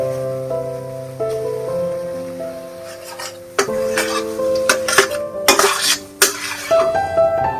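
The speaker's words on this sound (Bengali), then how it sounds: "মশলার সাথে সয়াটাকে খুব ভালো করে মিক্স করে নিয়েছি" Soya chunks coated in masala are stirred in a pan, with a metal spoon scraping and clattering against the pan in irregular strokes, loud and close, over a soft sizzle and a faint tonal background.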